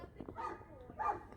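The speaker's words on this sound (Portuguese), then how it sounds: "tem um cachorro aqui" A dog met on a walking route, jumping up at a person, gives two short whiny yips about half a second apart, close by but fairly soft, over low outdoor background noise.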